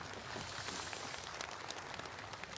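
Dense, steady clapping from a large crowd at a Korean Memorial Day ceremony after a military band performance, sustained throughout without pause, heard from some distance.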